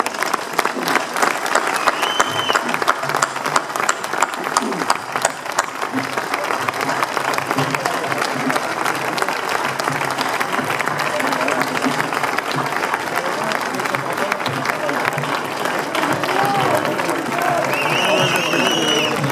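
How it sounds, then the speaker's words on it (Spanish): A large audience applauds former stone crane operators at a port ceremony in Santander, Spain. The clapping is loud, dense and steady for about nineteen seconds, with some voices mixed in. "Y para los que pido un aplauso."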